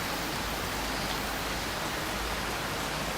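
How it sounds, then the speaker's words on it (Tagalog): Steady rain falling outdoors near a small home garden in bad weather, a dense, continuous hiss of drops with no breaks, loud and even throughout. "Ayan, pahina ng ulan."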